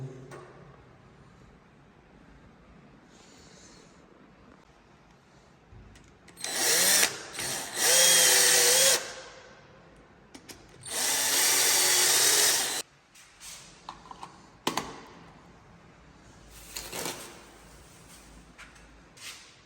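Power drill boring mounting holes for a cheap video doorbell, heard in two loud, sustained bursts of whining drilling, followed by a few shorter clicks and handling knocks in a quiet room.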